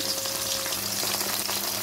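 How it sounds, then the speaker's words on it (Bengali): Parshe fish frying in oil with a loud, steady crackling sizzle close by, continuous throughout with no voices. "তো এই যে মাছটা আমি ভাজা বসিয়ে দিয়েছি"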